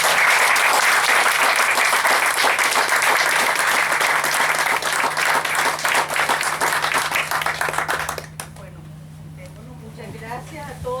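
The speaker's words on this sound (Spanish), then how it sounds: "podamos homenajear de alguna manera con un aplauso a la Revolución Cubana" Crowd applause at a solidarity event honouring the Cuban Revolution, long sustained clapping from a packed room that stops abruptly near the end, followed by a quiet room with faint speech.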